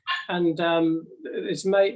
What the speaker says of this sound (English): Sorry if you can hear my dog barking there.